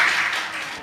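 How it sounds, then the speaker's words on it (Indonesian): A studio audience breaks into applause for a guest who travelled from Banjarmasin: a burst of clapping that gradually thins out, with a faint voice near the end. "Wah, kita tepuk tangan lu dong."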